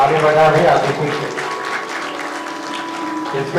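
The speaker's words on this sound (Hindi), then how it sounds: "ताली बजा रहे आदित्य से।" Brief round of audience clapping at a Good Friday prize-giving for a young race winner, dense and close, loudest at the start and easing slightly, with a voice speaking over it.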